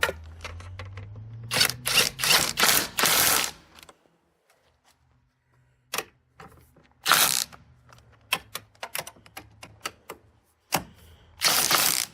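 Bursts of quick ratcheting clicks from a ratchet wrench tightening a bolt while installing the engine in a 2010 Mini Cooper, several separate runs of clicking with short pauses between them, close and clear.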